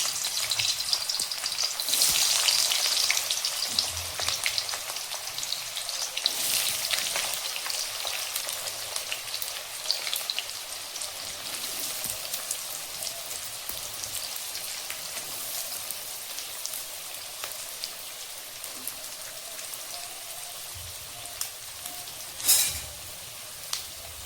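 Finely chopped onion frying in 3 to 4 spoons of oil in a kadhai, a steady close sizzle like light rain with occasional stirring scrapes, no talk.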